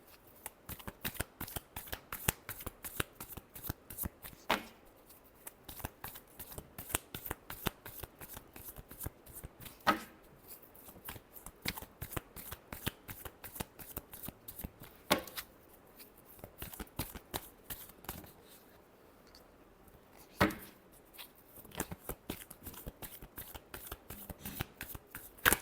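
Tarot cards being shuffled by hand in a long run of crisp, rapid riffling bursts separated by brief pauses and occasional sharper snaps, close and fairly quiet with no talking.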